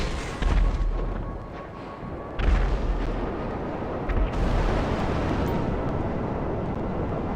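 Missiles fired and exploding in GTA 5 Online, heavy booming blasts with deep rumbles, one at the start and others near 2.5 and 4.3 seconds, loud and close over a continuous roaring engine-like bed, with no talking.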